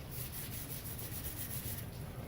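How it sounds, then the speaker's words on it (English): Sandpaper rubbed steadily across a painted cosplay prop, a continuous close, gritty scraping with a soft back-and-forth rhythm and no talking. "That's also why you have to keep moving it on the sandpaper."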